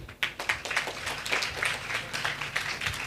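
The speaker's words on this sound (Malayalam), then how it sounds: "ഒന്ന് ക്ലാപ്പ് ചെയ്യോ?" Audience at a mentalist stage show clapping, a dense, continuous patter of many hands filling the space at moderate loudness for a few seconds.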